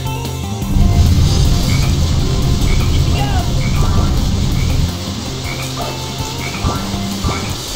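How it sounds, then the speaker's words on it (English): Dense croaking of many frogs in a jungle level of the video game Sonic Heroes forms a loud, continuous chorus, with scattered higher chirps and calls over it. "I hear there's frogs in this jungle that can summon rain."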